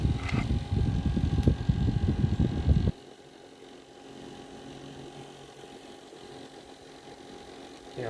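A rechargeable knapsack sprayer's motor runs loud and steady for about three seconds, then cuts off, leaving only a faint hum behind.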